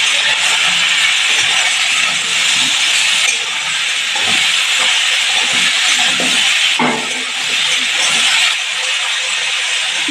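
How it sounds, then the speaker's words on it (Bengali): Ridge gourd fries in hot oil in a pan, a loud, steady broadband hiss with faint clinks and stirring knocks underneath. "আমি এই রান্নাতে হলুদ দেবো না, ঝিঙেটা একটু ভেজে নেবো।"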